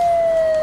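A loud, steady electronic ambulance siren tone from the Emergency 4 video game, close and constant for under a second.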